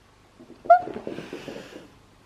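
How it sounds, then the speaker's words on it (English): A ragdoll kitten gives a short, faint meow at close range, a brief rising cry followed by soft rustling and low murmuring in a quiet room. "she's like meowing back to me"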